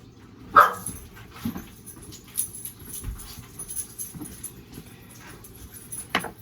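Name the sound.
dogs barking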